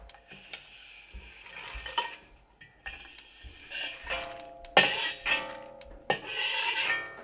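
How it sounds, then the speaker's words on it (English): Metal utensil scraping and scooping rendered pork fat out of a wok in a home kitchen, a series of close rasping scrapes and clinks with brief pauses, growing louder and busier toward the end. "So now, we gotta render the pork fat. And I just scoop them out like this."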